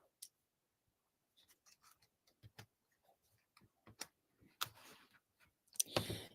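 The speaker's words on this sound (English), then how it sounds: "I am going to cut it off." Scissors snipping through card stock for an Easter card, a series of quiet, close, irregular clicks and cuts ending in a few louder rustling snips.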